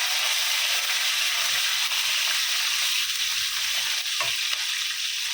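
Green chillies frying with cabbage in a hot pan, a steady close hiss of sizzling oil running throughout, with a few soft stirring bumps and a brief scrape near the end.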